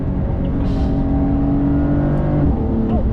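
A 2021 Porsche 911's engine roars at high revs on a track after heavy braking, steady and loud throughout, with a brief rising whine near the end as it pulls hard.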